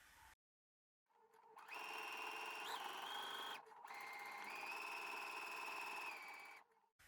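A sewing machine runs steadily while top stitching a seam on a garment, two sustained whirring runs separated by a short pause, close and clear with no talking.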